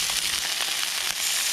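Fish frying in a pan at a roadside campsite in Utah, a steady close hiss and crackle of hot oil with small pops throughout, no talking.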